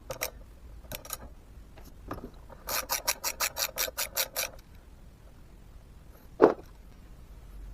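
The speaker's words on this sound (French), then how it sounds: "avec la clé à douille de 8, de dévisser cette petite vis là" An 8 mm socket wrench loosens a small brake pad retaining screw on a Honda 750 Transalp motorcycle: a few scattered clicks, then a quick run of close, sharp ratchet ticks, and a final single metallic knock.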